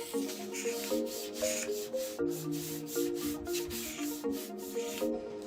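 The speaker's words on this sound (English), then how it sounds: "He carefully checks the shaving progress." A hand tool shaves a thin strip of wood being thinned for hot water bending, with repeated rhythmic rasping strokes, close and soft, beneath gentle background music.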